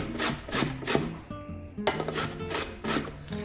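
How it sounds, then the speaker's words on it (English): Zucchini rasped against a kitchen grater for an eggplant pizza-style dish, a quick series of rough scraping strokes repeating close by with brief pauses, no talking. "Now with the grater we'll use a little bit of zucchini."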